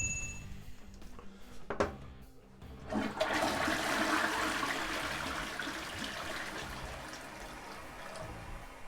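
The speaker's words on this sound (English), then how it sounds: "We're going to turn the water back on and fill her up and give her a flush." A newly installed toilet flushes after the water is turned back on: a couple of brief clunks, then a loud rushing swirl of water that settles into a steady refill trickle, alone and close.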